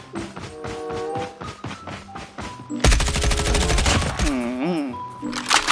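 Rapid automatic gunfire in the mobile shooter Call of Duty Mobile, loud dense bursts, a few isolated shots and taps at first, then a long continuous volley with a voice briefly over it.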